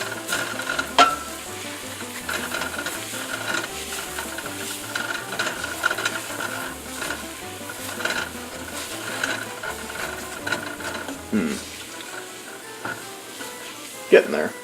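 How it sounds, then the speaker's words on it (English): Food is stirred in a pan until no white remains, making repeated scraping and soft clatter over a low sizzle, with a few sharper knocks, a low rhythmic hum underneath and no clear talk. "You want to stir it to the point where there's no white."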